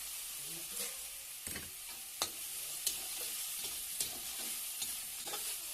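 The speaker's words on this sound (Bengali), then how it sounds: "শাকগুলো দিয়ে নাড়াচাড়া করে দিয়েছি" Radish greens being stirred in a pan with ginger and rice paste, a soft continuous sizzle broken by intermittent scrapes and taps of the spatula.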